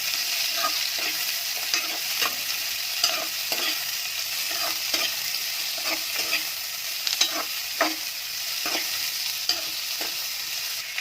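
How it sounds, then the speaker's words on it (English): Onions frying in a pan for fish curry: a steady close sizzle with repeated scraping stirs of a spoon throughout, no voices. "Add the onions till it is translucent."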